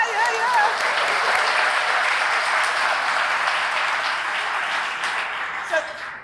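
A Hall of Fame induction audience gives loud, sustained applause, a thick wash of clapping hands with a few cheers and voices mixed in, holding steady before starting to thin near the end.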